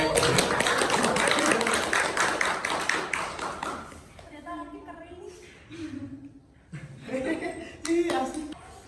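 A child and adult clap their hands in a quick, dense run of claps for about four seconds, close and fairly loud, then it stops and people start talking.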